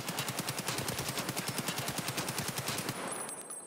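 Rapid automatic rifle fire from an M4A1 or AKM in Escape from Tarkov, a steady sustained burst of evenly spaced shots for about three seconds before cutting off.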